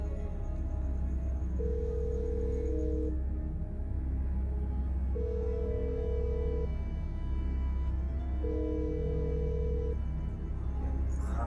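A phone ringback tone repeats three times in long, steady beeps over a low constant hum, with no voices.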